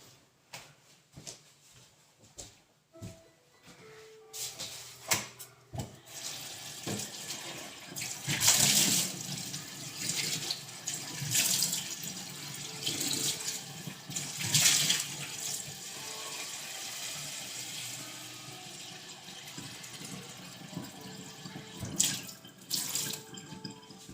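Tap water runs into a container, likely an empty milk bottle, to make bread dough, flowing in several surges with splashy bursts and pauses, fairly close, with no talk.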